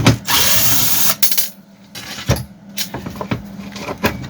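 A power tool whirs loudly for about a second while removing the carburetor screws on a Husqvarna 236 chainsaw, followed by sporadic clicks, taps and short mechanical rattles up close.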